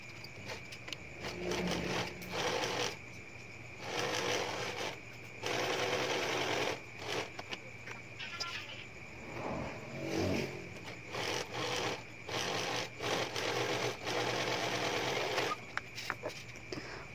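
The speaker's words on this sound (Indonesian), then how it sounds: "satukan dengan sisi baik berhadapan, lalu dijahit." A sewing machine stitches skirt pattern pieces together with right sides facing, running in repeated bursts of steady mechanical whirring broken by short pauses, close and fairly loud, with no talking.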